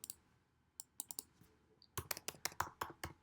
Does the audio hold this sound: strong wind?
no